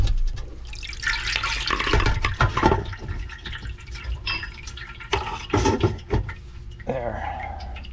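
Transmission fluid draining and splashing from a 4L60e clutch drum in a workshop, coming in irregular liquid bursts and trickles, loud and close, with handling noises in between.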